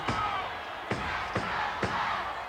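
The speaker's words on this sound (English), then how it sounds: "Crowd admonishing Mo, let's go Mo" Wrestling arena crowd chanting "let's go Mo" during a tag match, a loud wash of voices with four sharp rhythmic beats or claps cutting through.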